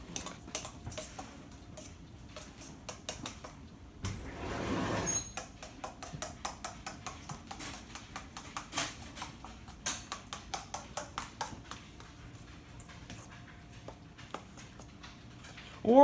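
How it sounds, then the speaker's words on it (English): A teaspoon stirs a mixture in a bowl, making rapid, regular light clinks that continue for the whole stretch, broken briefly by a short burst of duller noise partway through. "After that, we are to stir it around again."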